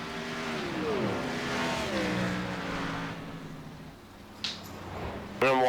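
A race car at a championship oval race roars past, a loud engine drone with falling pitch as it goes by, heard under overlapping commentary, with a brief sharp burst near the end.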